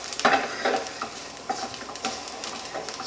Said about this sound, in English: Keep stirring, keep stirring. Don't leave it at this point.